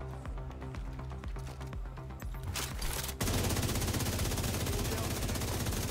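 Rapid automatic fire from a police M4 rifle in Division 2 rattles out in a steady stream, getting denser and louder about halfway through as sustained bursts continue to the end.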